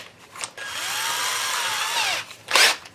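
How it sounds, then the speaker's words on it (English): A power drill whines steadily as it bores a pilot hole, one continuous close run of about one and a half seconds, bracketed by short bursts of handling noise. "we're going to drill that pilot hole"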